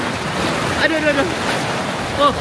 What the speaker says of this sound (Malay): Air sini lebih kuat.